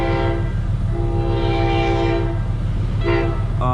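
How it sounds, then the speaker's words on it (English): A train passes close by with its horn blaring in long harmonic blasts, heard over the steady low rumble of a manual 6.7 Cummins diesel pickup idling or cruising. "Freaking train."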